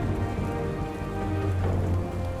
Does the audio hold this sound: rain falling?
yes